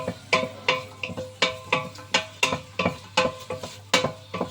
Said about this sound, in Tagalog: nagigisa na ako guys ng hotdog and sibuyas